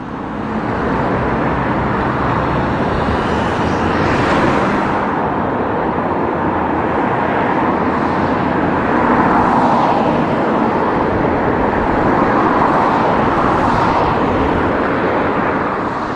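A VDL SB180 bus with an MCV Evolution body driving on a London street near a roundabout, a loud, steady engine roar and road rumble that swells slightly as it passes close by.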